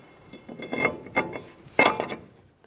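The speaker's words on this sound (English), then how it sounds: "now let's put our rotor on" Brake rotor slid onto the front wheel hub of a 2014-2019 Kia Soul during a wheel bearing replacement: a few short metallic scrapes and clunks, close and fairly quiet, with no talking.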